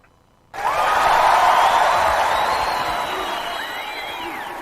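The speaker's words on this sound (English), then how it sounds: "Oh, do we need an applause?" Canned applause and crowd cheering from a sound-effects button box, starting abruptly and holding steady at a loud level for several seconds before tapering slightly.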